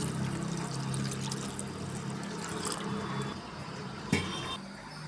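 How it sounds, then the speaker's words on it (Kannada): Water poured into a cooking pot of rasam with turmeric, chili powder and salt, a steady close pouring rush with faint clinks of metal and a sharp knock near the end. "ಈಗ ನೀರು ಹಾಕೋತಾ ಇದ್ದೀನಿ."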